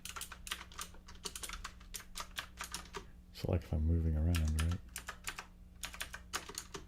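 Rapid computer keyboard keys clicking steadily, with a brief hum-like sustained tone midway and a voice speaking over the typing.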